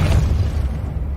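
A Depulso spell blast in Hogwarts Legacy lands as a short, loud, low boom that rumbles briefly and fades quickly.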